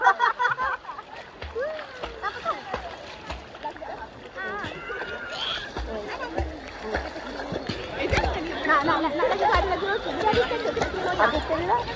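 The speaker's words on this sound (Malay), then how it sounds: "punya ombak mana datang?" Sea water splashes and slaps near a small boat off Langkawi, a steady choppy wash running throughout, with people chattering and calling out over it.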